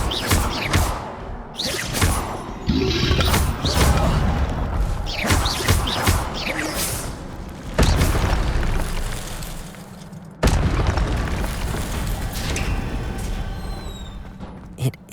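Repeated fiery blasts of the Incendio spell in Hogwarts Legacy, each a loud whooshing burst with booming crackle that decays before the next, several in sequence across the span, with a voice calling out over them.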